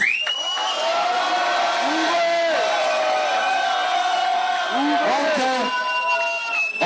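Audience at a freestyle rap battle in club 8 Ball shouts and whoops for the rapper, a loud continuous crowd roar with rising yells and cries throughout, close and filling the room.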